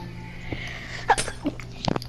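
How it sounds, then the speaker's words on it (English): A person sneezes during Minecraft PlayStation 4 gameplay, with a couple of short, sharp bursts standing out above a steady low background hum. "You sound like you're sneezing all over the city."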